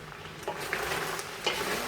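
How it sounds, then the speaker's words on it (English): Two large onions hit a hot pot of browned meat for Samoan sapasui chop suey, giving a steady close sizzle and frying hiss with a few stirring scrapes and pops. "I think it's time to add our onions."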